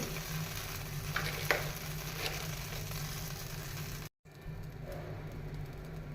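Dried chilli, bay leaf and cumin fry in oil with a low, steady sizzle under a humming background, a brief silent cut midway, then the quieter frying resumes, with no speech.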